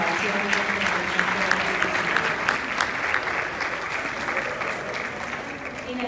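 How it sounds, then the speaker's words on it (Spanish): An audience at the award ceremony of a university entrepreneurship and innovation fair applauds steadily, a dense, continuous roar of many hands clapping at even volume from start to finish. "Invitamos a dar un fuerte aplauso a todos los participantes y ganadores de la 29ª Feria de Innovación."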